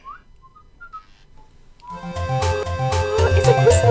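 A few short, high electronic whistle chirps sound alone from a COJI coding robot toy, then bright, rhythmic toy music starts and grows louder.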